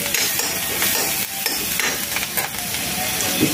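Onion frying in a pan with Kashmiri red chilli powder for aloo methi curry, a loud continuous sizzle with scraping stir strokes and occasional utensil taps.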